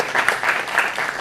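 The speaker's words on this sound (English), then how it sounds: "if you're fans of Nimisha, Roshan, Dibyendu, you want to give them a round of applause as well because they're absolutely stellar." Audience applause at a film festival conversation session, a brief burst of steady clapping from a crowd, moderately loud.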